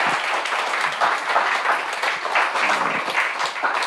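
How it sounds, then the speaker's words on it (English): Audience applause for a panel of speakers at a sanitation discussion event, steady dense clapping from a crowd throughout, moderately loud with no one speaking over it. "I want everybody to give a round of applause to our panelists here who did a fabulous job."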